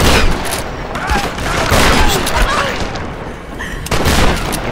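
Video game gunfire in Tomb Raider, set in a mountain village shanty town: dense bursts of shots and booms fill the clip loudly, with a brief break before a final burst near the end.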